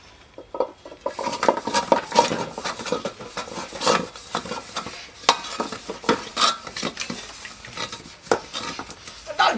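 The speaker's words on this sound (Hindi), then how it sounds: "चुपचाप बर्तन माजिए।" Dishes and pots are scrubbed and washed by hand, giving irregular clattering, scraping and rubbing sounds that come in uneven bursts, close by.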